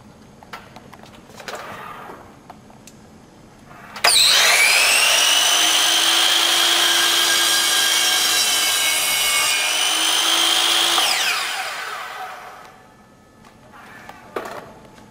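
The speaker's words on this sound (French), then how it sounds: "lorsque j'ai coupé, j'ai laissé démarrer la scie, descendu tranquillement" A sliding miter saw spins up and cuts through a piece of wood held by hand, a loud steady whining cut lasting about seven seconds before the motor winds down, with quieter handling noises around it.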